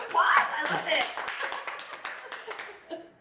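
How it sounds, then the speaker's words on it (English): A small group claps briefly in a podcast studio, a few hands patting in a loose, tapering rhythm that thins out over three seconds, with voices mixed in. "Round of applause."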